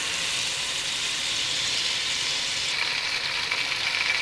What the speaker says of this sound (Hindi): अभी हम इसमें गोश्त डालेंगे। गोश्त को थोड़ा सा भूनेंगे